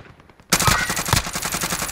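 Call of Duty Warzone gunfire shooting through a wall: after a brief quiet moment, a loud, rapid burst of automatic shots breaks out and continues in a steady rattling stream to the end.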